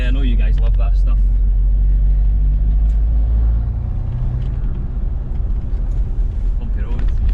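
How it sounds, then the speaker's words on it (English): A deep, loud engine rumble of a Mitsubishi L200 diesel pickup fitted with a GFB D-Boost boost controller, heavy low exhaust drone that eases off midway on a bumpy road, with a voice talking over it. "Let's try and get some exhaust noise in here."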